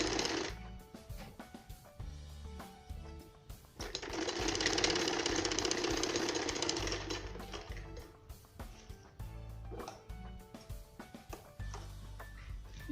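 Sewing machine stitching blouse fabric with long stitches, close and mechanical, with a steady rapid whirring run in the middle and shorter bursts and clicks before and after.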